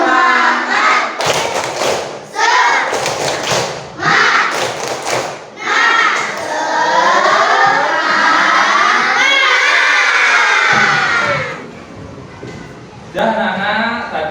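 Schoolchildren in a classroom perform a rhythmic clapping chant together, bursts of unison claps and shouted syllables repeating in loud, close groups, with a brief pause near the end before the chanting resumes.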